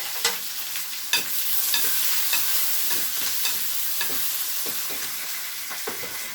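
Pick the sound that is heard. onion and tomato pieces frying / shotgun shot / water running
onion and tomato pieces frying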